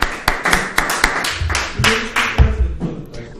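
An audience claps for a student at a French-language religious lesson on laws of searching for leavened bread, a burst of loud hand claps, close and uneven, fading over a few seconds.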